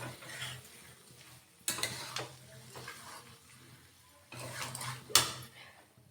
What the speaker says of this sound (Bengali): এখানে নেড়ে চেড়ে দিচ্ছি।